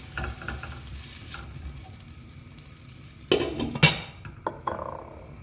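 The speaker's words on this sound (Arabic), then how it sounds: "هسه نذبل البصل" Chopped onion sizzles steadily in a frying pan while chicken dishes are cooked, a continuous crackling hiss with a few louder bursts of spatter and stirring near the end.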